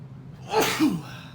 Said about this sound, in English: As I process a sneeze.